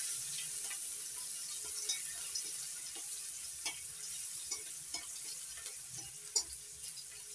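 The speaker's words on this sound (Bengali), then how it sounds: "রসুনটা একটু লাল করে ভেজে নেব।" Crushed garlic frying in hot oil in a pan with whole spices, a steady soft sizzle throughout with occasional light clicks and stirring taps, no voices.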